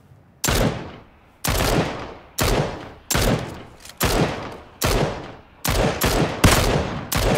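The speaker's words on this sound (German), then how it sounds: "Habe ich Schüsse gehört." Repeated bursts of loud gunfire in the video game PUBG, about ten sharp volleys spaced roughly a second apart, each with a crackling decay, close and with no voices.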